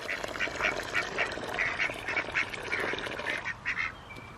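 Ducks or geese quack repeatedly at a homestead pond in northern New Hampshire on a spring morning, a steady run of fairly close, moderately loud calls with no talking.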